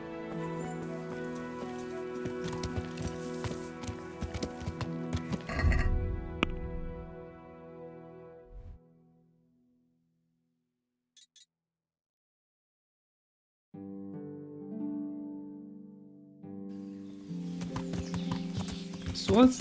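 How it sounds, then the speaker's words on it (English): Horse hooves clip-clop while riding in the video game Kingdom Come Deliverance, a rhythmic trot under game music and ambience, fading into a brief silence before the music and hoof sounds return. "Actually going to ride my horse there for a change."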